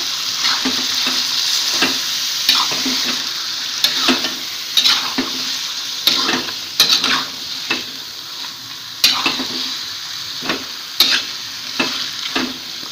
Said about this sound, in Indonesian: lalu sekarang kita aduk-aduk sebentar